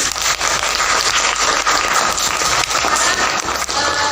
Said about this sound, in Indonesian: tepuk tangan buat kelas ini